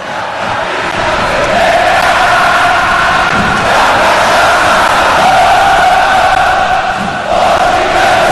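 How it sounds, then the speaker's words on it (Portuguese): Internacional fans in a packed stadium sing their own version of a song during the 2009 Copa do Brasil final against Corinthians, a loud, continuous mass of voices that swells and holds. "a torcida do Internacional, fez uma adaptação, usa a melodia, canta a letra"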